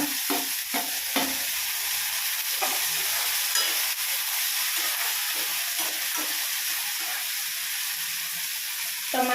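Onion and tomato fry in a pan for egg burji, giving a steady loud sizzle and hiss throughout with intermittent scraping stirs close by.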